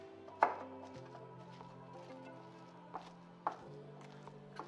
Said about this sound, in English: we're going to mash them with a fork